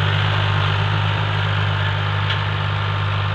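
A Fiat 480 tractor engine idles in a tractor workshop, a steady, droning low rumble with constant mechanical vibration, close and loud throughout with no voices.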